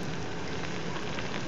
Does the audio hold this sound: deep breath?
no